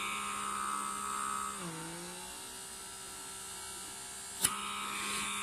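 Comedo pore vacuum suction device running, a quiet steady electric motor hum with a brief dip in pitch as the load changes and a single sharp click toward the end.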